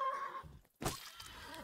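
A horse in a video game whinnies briefly at the start, a strained neigh followed by a short gap and a sharp impact-like burst, with game noise continuing behind it during a fight on a bridge.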